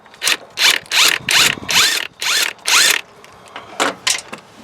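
A power tool spinning a nut off a header stud on a Nissan Titan during a JBA longtube header install, heard as about ten short, loud whirring bursts in an uneven rhythm, close by and without talk.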